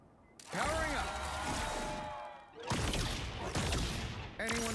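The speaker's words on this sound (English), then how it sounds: "Anyone say fireworks? Maximum pulse!" Fireworks ability effect from the Marvel Rivals video game, heard during a championship match: loud crackling bursts and whistling pops that fire in two long volleys with a short gap, with game noise layered over them.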